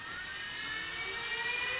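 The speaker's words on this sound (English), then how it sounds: "All four fans are running." Cooling fans of an Antminer S17+ cryptocurrency miner, fitted with an upgraded heatsink, whir steadily as they spin up, giving a loud, high, continuous airy roar that slowly builds.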